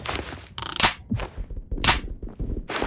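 Loud, close bursts of HK21 machine-gun fire in the video game Phantom Forces, several short volleys of sharp reports separated by brief gaps, with no talking.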